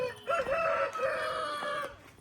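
A rooster crows near a village house on a hillside above a river, one long drawn-out call with rising and falling pitch, fairly close and clear.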